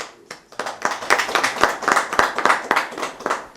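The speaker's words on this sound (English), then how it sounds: "Another round of applause for you." A live audience applauds at a student panel discussion, a steady burst of hand clapping with sharp individual claps throughout, sustained at a fairly even level for several seconds.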